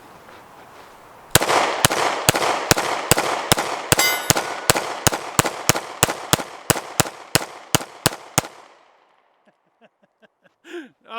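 Two SCCY CPX2 pistols fire a rapid string of about twenty sharp, loud shots in quick succession outdoors, each crack followed by brief echo, ending with a faint trailing rattle and some light sounds after.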